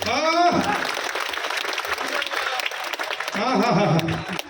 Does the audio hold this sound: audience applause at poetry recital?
yes